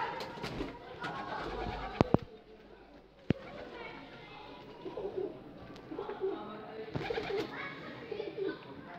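Pigeons coo softly on a balcony while feeding, low repeated calls mixed with a few sharp taps and rustles, and a person talks quietly in the background.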